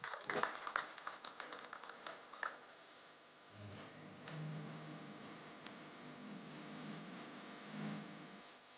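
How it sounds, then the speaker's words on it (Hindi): Scattered applause at a film trailer launch event in India: a short burst of distinct claps from a small group that fades within a few seconds, leaving low room murmur and faint background voices. "तालियां आइए। ज्योति जी के लिए।"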